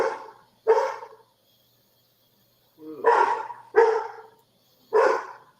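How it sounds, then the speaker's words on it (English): Dogs at the door bark loudly and close, with a pair of barks followed after a pause by three more spaced barks. "There's a good guard dog."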